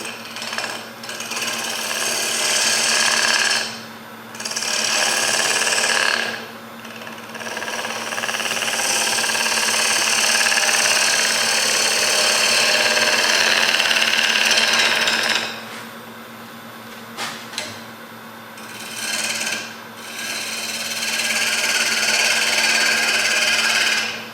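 A wood lathe spins while a tool shear-scrapes a turned sphere, making a loud, dense, rattling scrape in long runs broken by several brief pauses, with a steady motor hum underneath.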